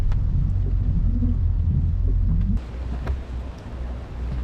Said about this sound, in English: So here we are in the rain with the Kia.